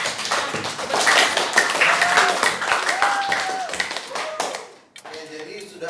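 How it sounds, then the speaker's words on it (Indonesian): A class of students claps together in a steady burst of applause lasting several seconds, then it fades out abruptly and voices follow. "Beri tepuk tangan dulu buat kita semua"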